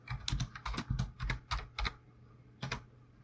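Quick, close keystrokes on a computer keyboard as a short expression is typed into jshell, in a brisk burst of clicks, then a pause and one final press.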